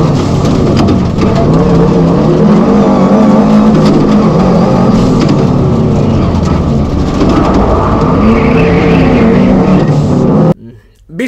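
A rally car on a practice stage, sliding hard through a tight corner on a heavy handbrake pull, a loud continuous roar of engine and tyre and gravel noise that stops abruptly near the end, with no talk over it.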